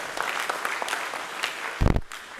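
Applause for the youth leadership at an UMNO Youth divisional meeting in Batu Pahat, a brief patter of clapping that ends in a short loud burst.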